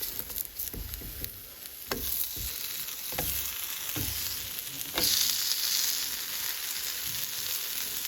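An eggless omelette frying on a hot pan just after being flipped, a steady close sizzle with a few sharp clicks and scrapes of a spatula, and a brief louder burst of hissing partway through.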